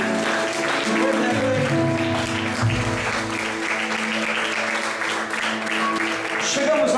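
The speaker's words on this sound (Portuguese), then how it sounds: "Aplauda Jesus, aplauda Ele." Church congregation applauds over sustained worship music, a dense, even wash of clapping under held keyboard chords with voices mixed in.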